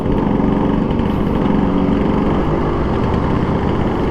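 A 1962 Vespa VBB scooter engine runs close up, a steady, loud two-stroke putter with a rapid even pulse and no talk over it.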